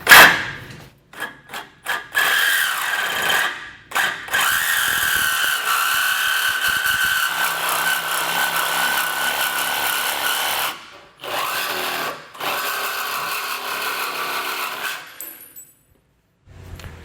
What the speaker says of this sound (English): we're probably going to use a cutoff wheel on the inside to minimize the chances of nicking any of these parts